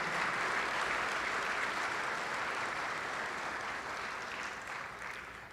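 An audience applauds steadily throughout, a dense wash of clapping at a prep school legends event that holds strong and then gradually tapers off toward the end.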